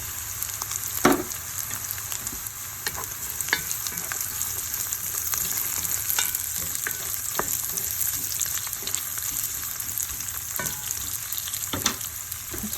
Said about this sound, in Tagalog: Then, mag-golden brown naman ng konti yung ating sibuyas at bawang.